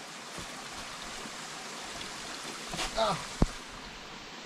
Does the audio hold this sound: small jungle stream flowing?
yes